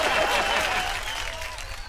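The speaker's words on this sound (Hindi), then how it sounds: "जोरदार तालियां" A studio audience at a Hindi comedy show claps loudly in a short burst, a dense applause that fades slightly over two seconds, with some whoops and a voice trailing through it.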